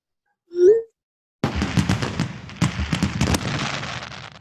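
An iPhone message fireworks effect plays a short rising whistle, then after a pause a crackling burst of fireworks pops and bangs at a steady level until the end.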